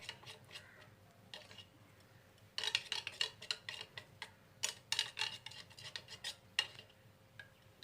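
A spoon stirring water-soluble colour into a batch of homemade floor cleaner, giving quiet clinking and scraping taps against the container in irregular bursts, faint and close with no talking.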